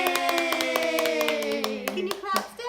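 A family claps together right after singing Happy Birthday at a 75th birthday party for their dad: a quick run of sharp, close hand claps mixed with cheerful voices and a sustained sung note that fades out.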